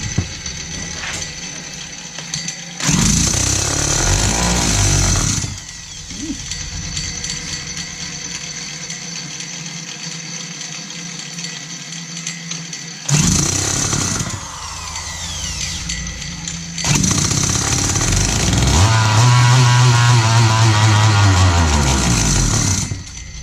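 A McCulloch Mini Mac 6 chainsaw engine roars loudly in several bursts, revving up and then sagging and dying as it starves of fuel, with quieter gaps of background noise between runs.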